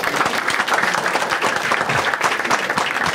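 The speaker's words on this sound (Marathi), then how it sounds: "एकदा टाळ्या द्या दोघांसाठी" A stand-up comedy crowd claps loudly and continuously, a thick, even wash of applause that holds from start to finish.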